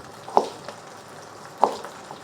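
Chicken skin frying in a pan, rendering its fat, gives a faint, steady low sizzle broken by two sharp pops or spatters about a second apart.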